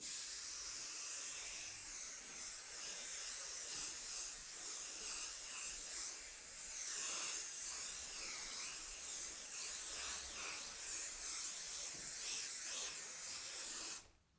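A long, continuous hiss of spray adhesive from an aerosol can onto quilt batting, steady and close, cutting off abruptly at the end.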